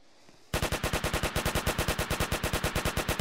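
Rapid automatic gunfire in the Roblox game Alien Defence starts abruptly after a short quiet moment, then runs as an even, loud burst of about twenty evenly spaced shots, with no voices.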